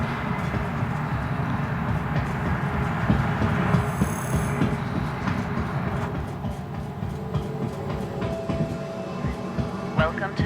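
A metro train rolls into a station in the video game Star Citizen, a steady low rumble with faint clatter and a brief high whine, continuous and fairly loud throughout.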